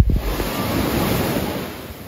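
Strong wind buffets the microphone at Arambol beach in Goa while surf rolls in, a loud, steady roar of waves and gusts with no voices.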